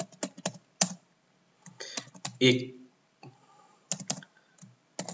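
Computer keyboard keys being typed in short bursts of close, crisp clicks, with pauses between runs, while a person talks over and between the typing.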